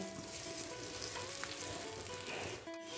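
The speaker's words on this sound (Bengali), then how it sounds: "ম্যারিনেট করা গোবিন্দভোগ চাল ঘিয়ের ওপর দিয়ে দেব। এইবার আমি চালটা মিনিট 5 ভাজা ভাজা করব।" Marinated Gobindobhog rice fries in ghee with a steady, dense sizzle that holds unbroken for a few seconds, close and even, with a faint stirring scrape near the end and no voices.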